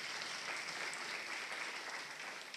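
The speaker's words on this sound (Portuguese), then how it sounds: "Pode aplaudir, senhoras e senhores." An audience claps together at a lecture and panel event, producing a dense, even roar of applause that stays loud and continuous throughout.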